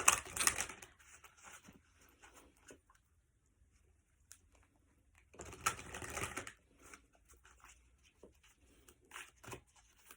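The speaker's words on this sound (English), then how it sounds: "let's give these cards a shuffle" A deck of playing cards is shuffled in short riffling bursts, with two louder flurries separated by quiet pauses and light tapping, close and fairly soft.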